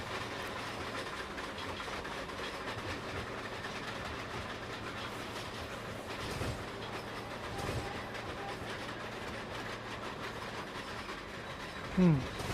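Subway train running in a railroad simulation game, a continuous low rumble with faint rhythmic clatter throughout and a brief squeal near the end.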